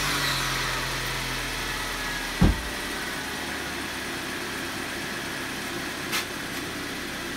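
Car engine idling steadily in a garage, a continuous low rumble with a brief louder thump partway through and a faint click later, no voices.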